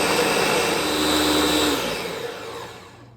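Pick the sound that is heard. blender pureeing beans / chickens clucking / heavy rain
blender pureeing beans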